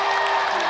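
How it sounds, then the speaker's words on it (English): Studio audience applauding in a television game show studio, a brief dense wash of clapping and cheering at steady loudness. "let's give another round of applause for Clive Barton and Richard Walkling"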